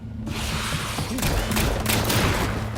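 Dense bursts of gunfire from police shooting at zombies inside a house in a horror film crackle and boom in quick succession over a loud, continuous rumbling background.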